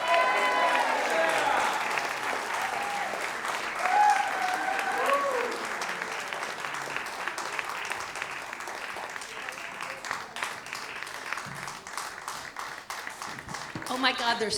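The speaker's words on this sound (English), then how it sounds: "they're still clapping" Sustained applause from a gala audience welcoming a pianist-singer to the stage, a thick, loud wave of clapping that keeps going throughout with some crowd noise mixed in.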